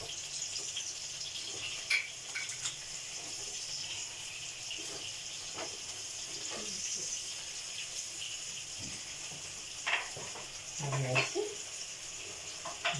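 Steady sizzle of green and red chillies and spices frying in hot oil for sarson ka saag, with a few clinks and stirring scrapes through it; no one speaks.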